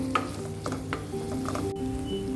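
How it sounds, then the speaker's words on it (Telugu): Eggplant pieces salted and sautéing in a pan for a fresh black-eyed pea curry, a steady moderate sizzle with several light spoon stirs and scrapes. "ఒకసారి ఇలా కలిపేసుకొని వంకాయల్ని మగ్గించుకుందాం"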